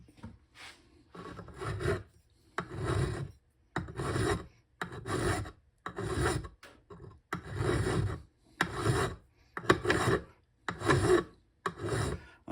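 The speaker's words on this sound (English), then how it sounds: "I'm trying to like tilt the file a little so it grinds more on the outside edges, because that's where it's bent up" A metal file rasps back and forth across the bent edge of a Holley one-barrel carburetor float bowl in about a dozen steady, even strokes separated by short pauses, close up and with no talk.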